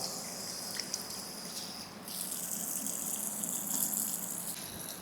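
Water runs from a wash basin tap in a resale flat, a steady broadband gush with occasional drips. It grows slightly louder after the first couple of seconds and continues throughout without any talk.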